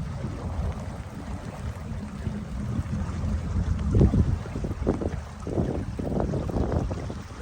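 A boat cruises through floodwater with a steady low motor rumble, water wash and wind buffeting the microphone, continuous and unbroken with no voices.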